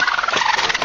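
A flock of chickens loose near a farm, heard as dense, continuous fowl squawking and gobble-like clucking from several birds close by, with no speech.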